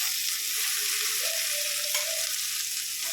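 Tangra fish cook in hot spiced oil for a tel jhal curry, a continuous close sizzle and crackle with faint stirring, and no talking.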